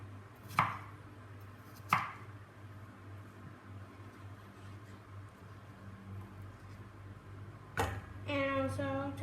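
A knife cuts through snow pear on a board, two sharp isolated chops early on and a third later, followed by a brief burst of a voice over a low steady hum.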